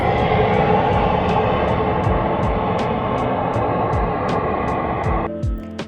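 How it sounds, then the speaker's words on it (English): Airplane passing overhead in Norway, a loud continuous roar holding steady for several seconds with some rhythmic ticking in the background before it cuts off abruptly near the end. "Another plane."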